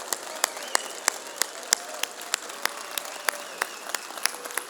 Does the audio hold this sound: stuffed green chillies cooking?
no